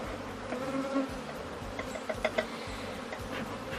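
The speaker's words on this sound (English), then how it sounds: "he is smoking the bees a little bit so that they go inside the box" Honey bees buzz steadily and densely close by as a beekeeper puffs smoke over an open hive box to drive them inside, a continuous insect drone with a few brief sharper sounds mixed in.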